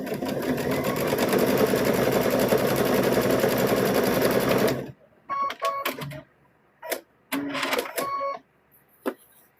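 A sewing machine stitches the seam of a stuffed bear, running steadily and loudly for about five seconds, then stopping and restarting in several short bursts.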